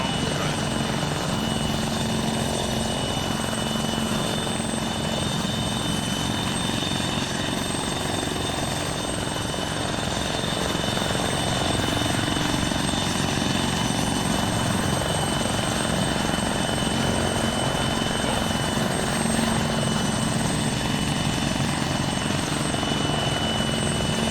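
A helicopter in the video game Arma 3 takes off, its rotor and engine roar holding loud and steady throughout, with faint voices now and then underneath.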